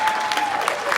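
Applause fills a political forum for a U.S. Senate candidate, a close, steady wash of clapping with a faint tone running underneath.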